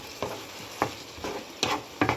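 A spoon stirs tomato chutney with chilli powder and asafoetida in a pan, giving a handful of distinct scraping strokes over a soft sizzle, close and fairly quiet, with no one talking.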